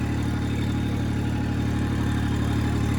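Farm tractor engine running steadily on a cold, foggy day, a constant low mechanical hum with even vibration throughout and no voices.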